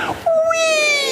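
A human voice imitates a siren, sliding from a high "wee" down to a lower "or" in one smooth, loud, close descending glide after a brief breathy start.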